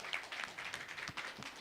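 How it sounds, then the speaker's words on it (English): A short burst of scattered clapping from a small crowd, fairly faint and distant. "Round of applause"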